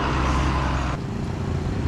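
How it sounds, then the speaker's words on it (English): Heavy trucks rumble past on a busy road in Vietnam, a loud, continuous deep engine roar close by that eases slightly midway as one vehicle moves on and others keep droning. "listen to these trucks, it's brilliant"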